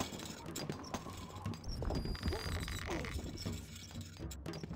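Horse hooves clip-clopping in the Stronghold Crusader strategy game, a quick run of light hoof knocks among clinking and battle clatter, fairly faint and busy, with no voices over them.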